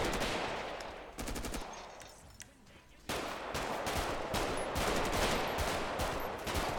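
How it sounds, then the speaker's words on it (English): Bursts of rapid automatic gunfire fill a roleplay video game scene, with several long rattling volleys broken by a short lull before the shooting resumes even louder. "Oh my god, how many shots has he taken?"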